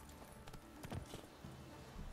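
Faint, quiet clip-clop of hooves from Roach, the horse in Witcher 3, as a few soft steps over a low background.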